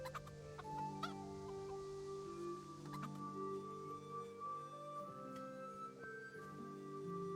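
Chickens cluck and squawk in a video game set in Skalitz, Bohemia, with several birds calling in short bursts over a steady murmur of ambient game sound.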